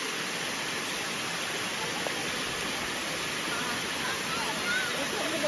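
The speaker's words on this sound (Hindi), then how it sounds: "हम आ गए हैं वाटरफॉल" Jibhi Waterfall rushes in a dense, even roar, loud and unbroken from start to end.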